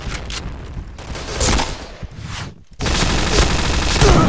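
Rapid bursts of gunfire in the first-person shooter Point Blank, loud dense volleys with brief gaps and a short silent break before a sustained stretch of automatic fire.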